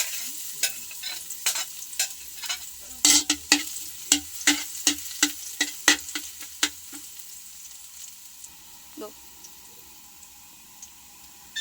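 Garlic sautés in a little hot oil in a pan, with a light sizzle under repeated sharp scraping stir strokes, about a dozen evenly spaced, close and crisp, then fading to a quiet simmer.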